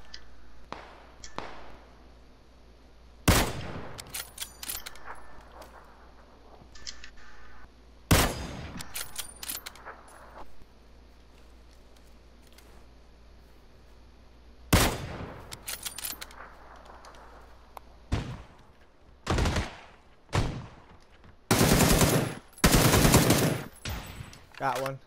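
Gunfire in PUBG on PlayStation 4: sharp single shots and short automatic bursts, some near and loud, others fainter, scattered irregularly with quieter gaps and a dense cluster of rapid fire toward the end.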